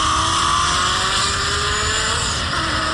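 Two Chevrolet Camaro SS cars, a sixth-generation with full bolt-ons and a cammed one, accelerating hard side by side in a dig race, a loud sustained engine roar with rising pitch and steady, close, intense exhaust noise throughout.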